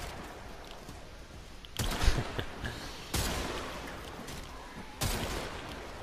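Three sharp, powerful rifle shots from a Rubico Prime sniper rifle in Warframe ring out at spaced intervals, each a loud crack with a short tail over quiet background noise.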